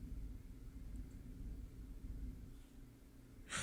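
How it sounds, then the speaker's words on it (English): A household washing machine rumbles indoors with a low, steady drone that runs throughout, faint and unbroken, ending in a brief burst of brighter noise. "Oh, that was my washing machine."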